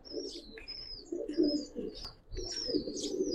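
Giribaz pigeons of the Palla line cooing close by, soft repeated throaty coos running throughout with brief chirps and a little wing rustle; no talking.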